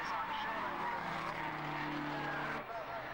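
Road saloon race cars from a 1991 BRSCC Slick 50 series roar past on the track with a steady engine drone and some tyre noise, heard under a commentator's voice.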